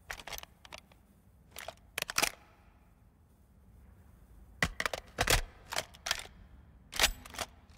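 Inspecting the SCAR with platinum camo in Modern Warfare 2 gives crisp metallic clicks and clacks of the weapon being handled, in two close-up clusters separated by a quiet pause.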